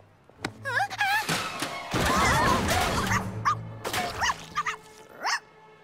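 A cartoon puppy in Polly Pocket yips and barks after knocking over paint, with several high rising yelps amid clattering crash sounds, and characters talk over the commotion.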